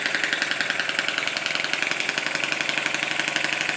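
A Lister D model stationary engine runs steadily at slightly raised revs, a fast even chugging rhythm, close and loud throughout with no voices.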